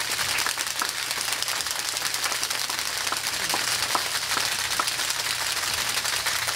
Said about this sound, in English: can we give a round of applause to Miss Grace?